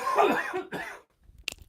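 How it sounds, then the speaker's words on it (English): A single short cough near the end, brief and close, after a stretch of a man's speech and a moment of quiet. "I just have to cough."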